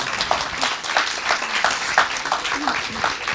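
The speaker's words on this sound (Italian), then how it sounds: "Applauso." Audience applause at a film festival documentary presentation, a steady wash of clapping lasting a few seconds with some speech-like sounds mixed in.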